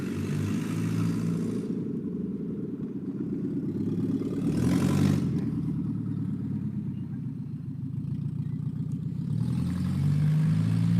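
A loud car with a faulty exhaust rumbles nearby and gradually passes, its low, steady engine drone filling the scene without any talk.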